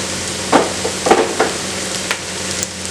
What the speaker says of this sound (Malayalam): ഒന്ന് വഴറ്റിയെടുക്കണം